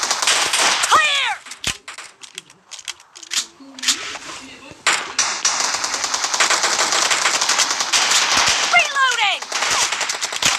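Shotgun fire in a video game comes as dense bursts of sharp blasts with ringing tails, loud and close, interspersed with quieter gaps and shouted voices over the action.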